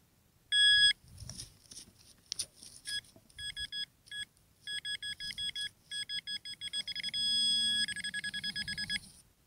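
Garrett Ace Apex metal detector sounding a run of sharp electronic beeps outdoors on spoil piles, in quick repeated bursts with a longer sustained tone near the end, close and loud.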